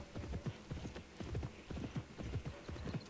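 Horse hooves from the Pippa Funnell Ranch Rescue video game beat out a steady, rhythmic clip-clop that repeats in close, even groups with no talking.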